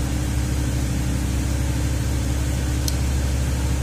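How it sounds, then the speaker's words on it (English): 2004 Ford Freestar engine held at raised idle RPM, a steady low drone with broadband hiss, constant and unchanging, with one faint brief click near the end and no voices. "I can ramp the engine RPM up"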